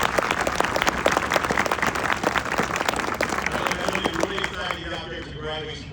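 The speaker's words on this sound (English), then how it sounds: "ladies and gentlemen, please a round of applause." Loud, sustained applause from a crowd at a Marine Corps recruit graduation ceremony at Parris Island, a thick patter of many hands that thins and fades toward the end.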